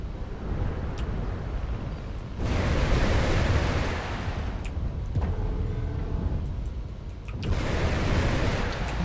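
A mech blows up in the MechWarrior video game, a loud broadband roar bursting in, fading, then a second heavy rumbling surge near the end, with faint game cockpit sounds between.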